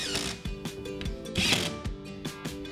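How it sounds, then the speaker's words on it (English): A Ryobi brushless driver sets screws through pipe shelf brackets into a wall stud, giving short, loud bursts of whirring and clicking, several in a row with brief pauses between them, and no voices. "all I'm doing now is I'm using my Ryobi brushless driver"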